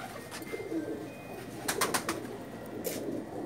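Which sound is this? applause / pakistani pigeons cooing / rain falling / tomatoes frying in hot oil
pakistani pigeons cooing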